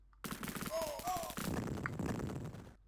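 Rapid gunfire from the Sega Mega Drive game Cannon Fodder, a dense run of shots under game music with a person talking over it.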